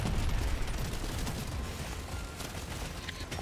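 Rapid automatic turret fire from Deep Rock Galactic Survivor, a dense, continuous rattle of shots with booming low end running steadily throughout, loud and unbroken.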